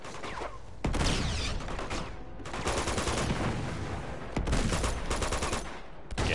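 Rapid gunfire from the Uncharted 2: Among Thieves video game, dense bursts of automatic shots and overlapping fusillades that stay loud and continuous across the whole stretch, with brief gaps between volleys.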